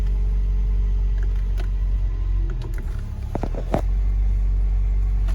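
A 2020 Jeep Wrangler JL is push-button started, a short mechanical catch and crank rising out of a steady low idle-like rumble, heard close and without speech.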